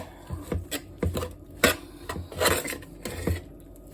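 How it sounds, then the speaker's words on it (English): A spoon stirs cornbread dressing with ground sage folded in, giving soft irregular scraping and thudding strokes against the bowl, a close, uneven rhythm of a dozen or so muffled knocks. "Stir that up."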